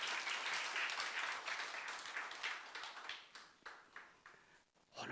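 A church youth-service congregation bursts into applause, dense clapping filling the room at first and then thinning and fading toward the end, with no one speaking over it.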